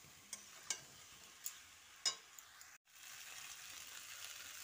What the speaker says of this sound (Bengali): আলু, ফুলকপি ও মশলাটা ভালো করে কষিয়ে নিতে হবে।